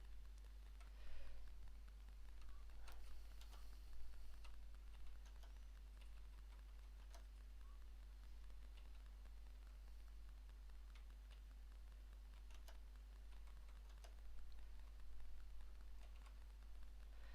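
Light, irregular key clicks from typing on a Maltron one-handed keyboard, faint and close, scattered with pauses over a steady low electrical hum.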